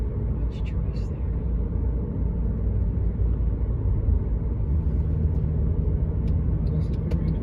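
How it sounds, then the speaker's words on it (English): A car driving at night through a hilly city, climbing and descending streets, giving a steady close engine and road rumble that holds evenly throughout, with a few faint high clicks on top. "This is very interesting driving around the city at night."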